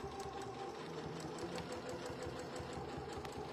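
A sewing machine stitches a quilt in a fast, even mechanical run of needle strokes, steady and fairly quiet, with no talking over it.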